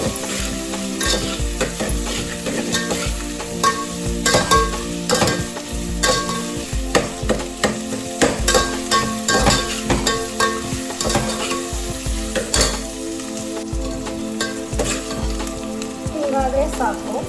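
Sliced onions for mutton biryani sizzle steadily in hot oil while a utensil scrapes and stirs the pan in a busy, irregular rhythm, close and loud throughout.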